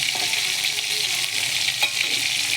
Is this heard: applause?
no